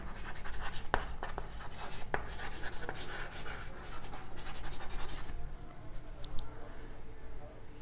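Marker or chalk writes on a board during a physics lesson, giving soft intermittent scratches and taps at close range that fade near the end.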